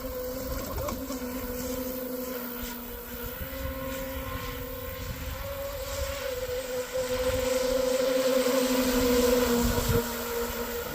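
A twin-motor carbon fiber Cheetah RC catamaran on twin 6S lipos makes slow passes, a steady high electric motor whine with a gently rising pitch under continuous water and wind noise, no talk.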